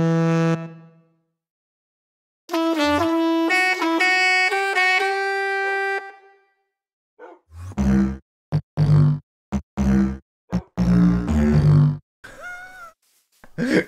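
A long, mournful goat horn blast from Minecraft Bedrock sounds alone, followed by a second wavering horn call, then a series of short deep honks and bursts.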